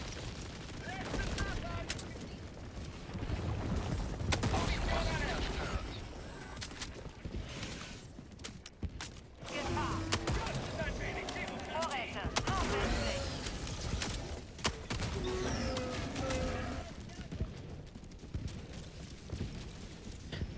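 Gatling Sentry turret in Helldivers 2 firing in a sustained, loud stream of rapid shots and booms across most of the stretch, with brief gaps and a voice talking over the chaos.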